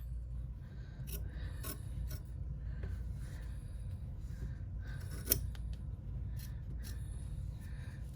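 Scissors snip the fabric seam allowance of a sewn bag with a few sparse, faint cuts and light rubbing over a steady low hum.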